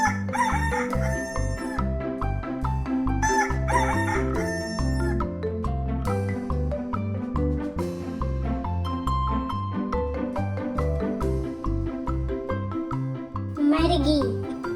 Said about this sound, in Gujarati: કુકડાનો અવાજ સાંભળશો ને?